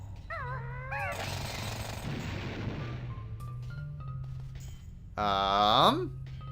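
Rock drilling in the Banjo-Tooie video game, a dense grinding rattle lasting about two seconds between chirpy, warbling character sound effects, with game music and background noise running throughout.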